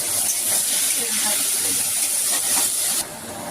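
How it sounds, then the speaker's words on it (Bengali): Onions frying in hot oil in a pan, a loud, continuous close sizzle and hiss that drops to a quieter level near the end. "পেঁয়াজটা আমার হালকা লাল ভাজা হয়ে গেছে"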